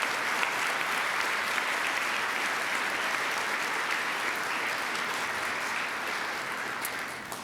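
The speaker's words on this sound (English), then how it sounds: "Please, a round of applause for all of our finalists before we announce our winner." Sustained applause from a room of Rotary Club members for Jefferson Award for Public Service finalists, steady, dense clapping filling the whole stretch and tapering slightly at the end, with no voices over it.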